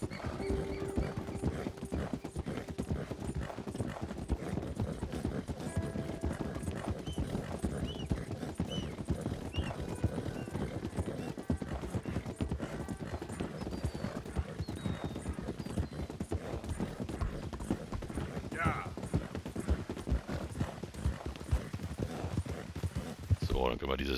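Steady clip-clop of horse hooves at a walking pace in Red Dead Redemption 2, with a voice talking over them.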